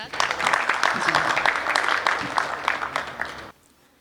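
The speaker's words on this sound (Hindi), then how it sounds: "एक बार जोरदार ताली के साथ" Loud, dense clapping from the audience at a Hindi poetry gathering, a kavi sammelan, sustained for about three and a half seconds and then cutting off abruptly into quiet.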